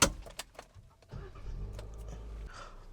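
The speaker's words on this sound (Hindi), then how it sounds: "तो चलिए अभी गाड़ी स्टार्ट करते हैं हम।" A Kia Carens Clavis HTE(O) car starting, with a few clicks and key jangles up close, then the engine cranking and settling into a steady low idle heard from inside the cabin.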